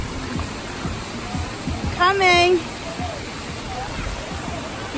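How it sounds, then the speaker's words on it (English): Heavy rain pours steadily at a Nickelodeon water park, a dense, even hiss with no breaks across the whole stretch, while a voice calls out briefly near the middle. "It's pouring, pouring rain."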